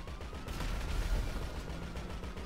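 Gunfire in the video game GTA V, a steady dense crackle of shots with low booms that fills the whole moment at moderate loudness, with no voices.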